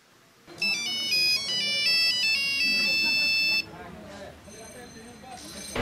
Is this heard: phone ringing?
yes